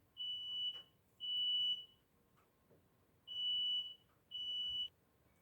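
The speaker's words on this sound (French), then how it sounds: "si vous avez entendu un bip, c'est pas grave" A smoke alarm gives four long, shrill electronic beeps indoors, in two pairs with a gap between them, fairly faint and with no talking.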